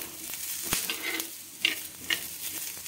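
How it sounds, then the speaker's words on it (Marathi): Grated coconut roasting with spices in a pan over a lowered gas flame for a Marathwada-style dish, giving a steady soft sizzle with a few sharp scraping stirs, close and alone. "याच पद्धतीने थोडेसे भाजल्यानंतर आपण खोबरं भाजून घेणार आहोत"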